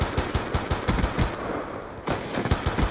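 Rapid automatic gunfire in the game Black Ops 2, loud bursts of repeated shots with a short pause in the middle before firing resumes, no talking.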